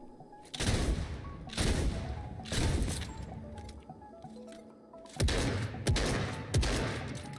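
A fast-firing gun in a video game lets off several loud, dense bursts of rapid shots, separated by short pauses.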